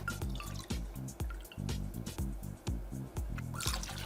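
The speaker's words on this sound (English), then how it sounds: "So we're gonna go in with 25 mils of each of our spirits here." Rum and other spirits trickle into a cocktail measure in short pours, close and fairly quiet, with no talk over them.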